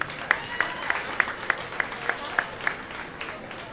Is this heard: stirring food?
no